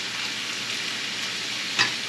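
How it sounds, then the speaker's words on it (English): Bacon sizzles steadily in a frying pan, a close, even crackling hiss with one brief sharper pop near the end. "And the bacon starts to sizzle away in the pan there."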